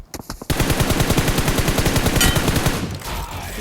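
Rapid automatic gunfire from a tower in the BGMI battle royale game, a loud sustained burst of evenly spaced shots after a couple of short opening taps, tapering off near the end.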